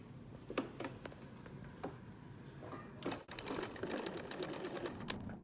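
A sewing machine stitching a reverse appliqué mug rug with a shortened stitch length, short bursts of needle clatter separated by pauses, then a longer steadier run, close and quiet.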